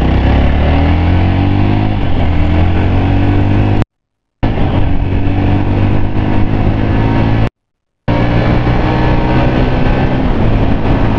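Yezdi Roadster motorcycle on a quick speed run, engine loud and close, revving and climbing through gears with rising tone, broken by two short silent gaps.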